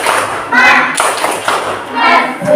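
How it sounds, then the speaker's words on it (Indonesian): A group of children claps in short rhythmic bursts of a clapping chant, close and loud, with a few thumps and a voice in between. "Tepuk semangat."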